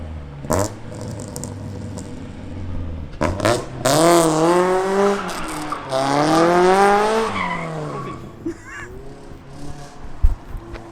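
A 4AGE-powered Toyota Corolla AE71 understeers with tires squealing loudly in long wavering screeches over engine revving, heard fairly close, with short bursts of engine noise before and after.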